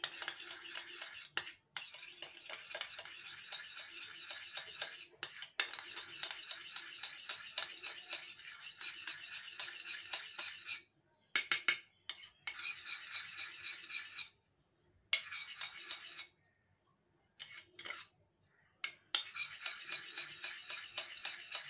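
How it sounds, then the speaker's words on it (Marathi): Yogurt is stirred into sugar for bhature dough, producing continuous gritty scraping and rubbing in a bowl with brief pauses, close and fairly steady. "दही टाकायचं आहे। आणि ते चांगलं मिक्स करून घ्यायचं साखरेमध्ये।"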